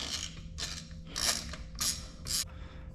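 A 1/2-inch drive ratchet works loose a very tight nut on the differential of an E36, giving four or five rasping bursts of pawl clicks in a steady rhythm, close and fairly loud, with no one talking.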